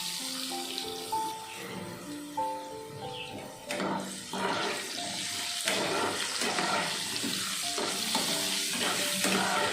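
Fish frying in too much oil in a pan for a Bengali fish curry, a steady close sizzle with stirring and clatter, while faint background music runs underneath.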